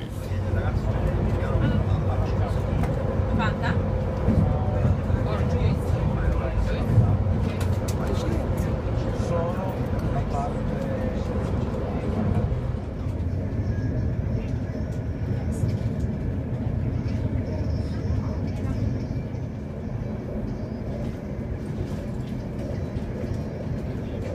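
Steady rumbling ride noise inside a moving train in Italy, a continuous low drone with faint rattles throughout.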